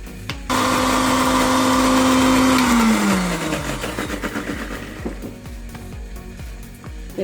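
Mixer grinder whirring loudly as it grinds tomatoes and small shallots, starting abruptly, holding a steady high motor whine, then winding down with a falling pitch and rattling as the blades slow.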